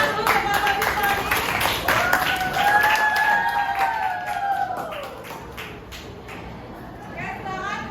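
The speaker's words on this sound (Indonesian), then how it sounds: "beri tepuk tangan untuk kelompok simfoni" Classroom applause for a student group being called to the front, scattered clapping over continuous chatter and speech, loudest early then tapering off toward the end.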